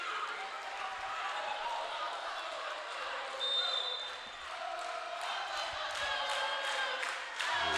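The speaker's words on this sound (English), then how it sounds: "The crowd getting into it here at Chappie." Gym crowd at a Tuskegee versus Stillman college volleyball match keeps up a steady roar of cheering and chatter, with sneaker squeaks and sharp ball contacts cutting through near the court.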